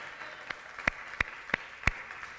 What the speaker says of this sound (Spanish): ¿Merece un aplauso el Señor o no?